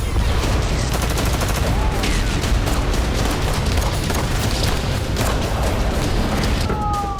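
Heavy gunfire in fighting in northern Gaza, a dense continuous rattle of rapid shots and booms that stays loud for the whole stretch, with no pause.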